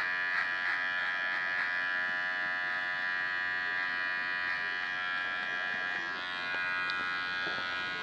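Electric hair clipper with a size 2 guard trimming the sides of a haircut, a steady close buzzing hum running throughout with slight shifts as it moves over the hair.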